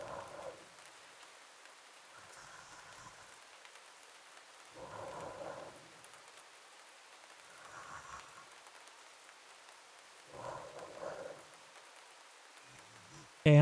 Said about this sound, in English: Sounds like a little bit of rain.